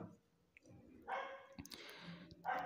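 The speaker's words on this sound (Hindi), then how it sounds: "कुत्ते भौंक रहे थे" Several dogs bark in the background during a history lecture: a few sharp, moderately distant barks at irregular intervals over a low room hum.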